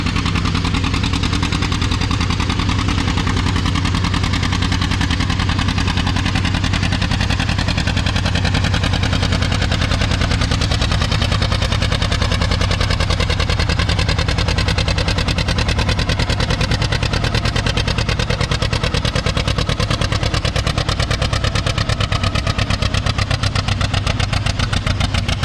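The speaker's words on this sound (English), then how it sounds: "John Deere 830." A John Deere 830 tractor engine running hard during a tractor pull at a vintage farming event, a loud, unbroken heavy diesel drone that holds steady the whole time.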